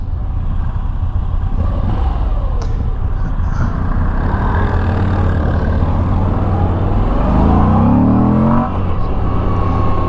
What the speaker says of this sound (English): Still got that lovely induction noise, no exhaust sounds